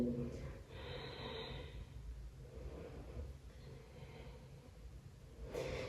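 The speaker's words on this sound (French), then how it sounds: "Et souffle. Inspire. Et souffle. Inspire." Long audible exhales and inhales from someone doing Pilates repeat in a slow, steady rhythm, breathy and close to the listener, with a voice softly cueing the breathing.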